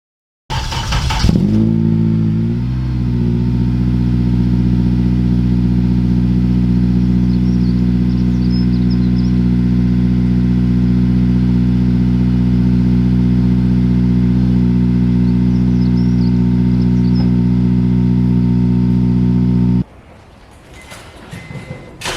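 A Honda Civic FN2 with a custom 3-inch exhaust runs loud and close, a deep, steady engine drone holding for about eighteen seconds before cutting off abruptly, leaving a quieter rumble behind.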